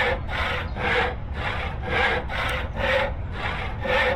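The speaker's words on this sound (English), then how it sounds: "when I'm sawing the planks." Wooden planks are sawn in the game Noble Legacy, with steady rhythmic back-and-forth rasping strokes, about two per second, close and loud throughout with no talking.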